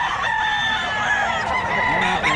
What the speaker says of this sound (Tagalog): Papakita natin mga manok.